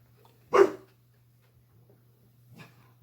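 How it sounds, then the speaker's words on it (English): A dog barks once loudly and close, then gives a fainter second bark a couple of seconds later while a delivery man drops off packages, with a low steady hum underneath. "FedEx man is here delivering packages, and all the dogs are going nuts."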